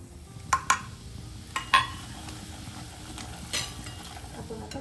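Mustard seeds and ground spices (onion-garlic masala, chili powder, salt, turmeric, garam masala) fry gently in a pan for dum aloo, with a soft, steady sizzle and a few sharp clinks of a spoon as they are stirred.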